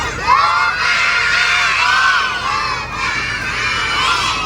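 A group of children shouts together in one sustained loud cry during a fire station visit, a unified crowd yell held for several seconds.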